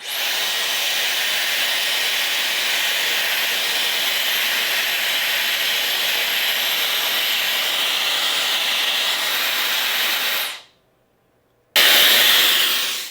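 A Dyson Airwrap blows a loud, steady hiss of air close by while curling a section of hair, cuts off abruptly near the end, then roars back on after a short silence.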